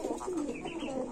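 Pigeons, satin breed kept for sale, give a soft low cooing that rolls continuously and close up, with faint room noise around it.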